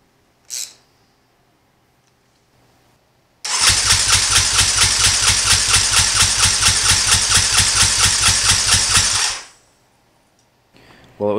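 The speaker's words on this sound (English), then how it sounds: "I'm gonna try running this bike without the optimizer and see if it starts" A Yamaha Raptor 700R quad engine is cranked without its fuel optimizer, a loud rapid rhythmic churning for about six seconds that then stops, with short knocks before and after.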